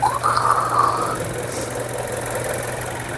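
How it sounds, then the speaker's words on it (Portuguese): A car engine idles close by with a steady low hum, and a faulty belt tensioner adds a rough, noisy whine and rattle over it. "Ele tá com o tensor dele com defeito. Tá fazendo muito barulho."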